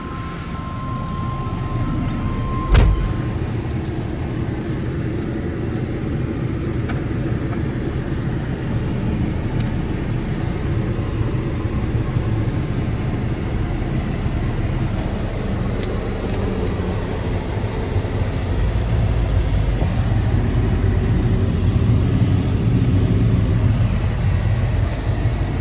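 A rust-free, lowered 1995 Chevrolet 1500 pickup truck on a drive, heard from inside as a steady engine and road rumble that swells slightly toward the end, with no talking.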